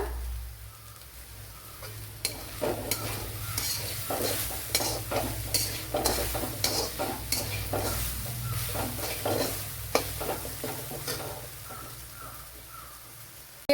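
Sliced bitter gourd and curry leaves frying in oil, a steady close sizzle broken by a long run of rhythmic scraping stirs against the pan.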